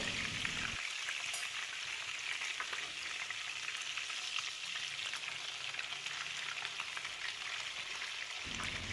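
Mutton chapli kababs fry in oil with a steady, dense sizzle that holds evenly throughout, close and continuous with no voices.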